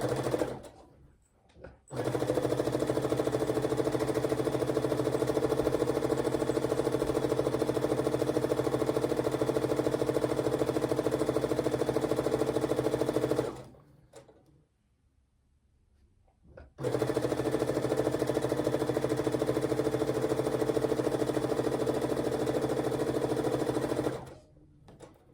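A sewing machine stitching a quilt runs in two long steady bursts of rapid, even mechanical chatter, close and loud, separated by brief pauses with no talking.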